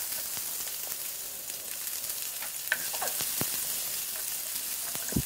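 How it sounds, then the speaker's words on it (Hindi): Cumin, chopped green chilli, ginger and onion frying steadily in a pan for cheesy bread tikiya, a continuous close hiss of sizzling oil broken by occasional spoon clicks and stirring scrapes. "अब हम जीरा, हरी कटी हुई मिर्च, अदरक इनको डाल के हम भून लेंगे"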